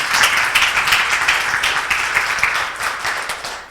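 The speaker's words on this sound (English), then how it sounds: "Can we get a round of applause for all of our speakers?" Audience applause at the close of a teaching celebration event, a steady dense wash of clapping from a room of people, fairly loud and continuous, easing slightly toward the end.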